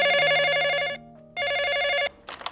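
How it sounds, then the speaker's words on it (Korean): A telephone rings at a police station, two long electronic ring bursts with a short pause between them, clear and close, ending with a brief rustle. "경찰서로 전화 한 통이 걸려옵니다."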